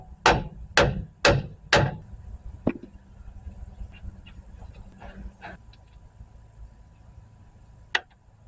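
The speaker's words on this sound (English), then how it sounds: "A little more of a tap to get those splines in through that strut." Hammer tapping axle splines through the strut of a Jeep Compass front end, four quick loud metallic strikes in a row, then a few lighter taps and scattered clinks, ending with one more sharp hit.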